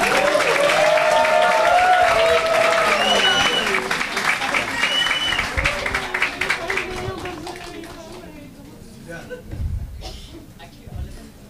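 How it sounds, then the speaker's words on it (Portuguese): Audience applause at a seminar on LGBTQIA+ public policy, loud at first and gradually thinning into scattered claps, with cheering voices mixed in on top. "uma salva de palmas"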